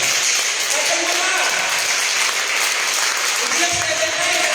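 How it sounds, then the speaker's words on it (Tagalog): A church congregation at a Sunday worship service applauds loudly, a dense, steady wash of clapping that carries throughout, with a voice speaking over it at moments. "Pumalakpak ng malakas sa mga righteous."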